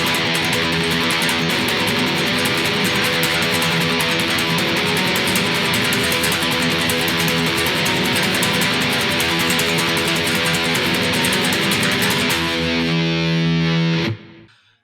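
Fast tremolo strumming on a heavily distorted electric guitar in a metal style, a dense, relentless blur of picked notes, loud and unbroken, ending abruptly with a brief ringing chord.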